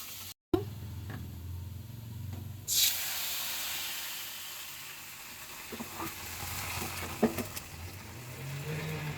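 Cumin seeds and dal tempered in hot oil in a home kitchen give a sudden loud sizzling hiss that bursts in, then settles into a steady softer frying crackle with a few small pops.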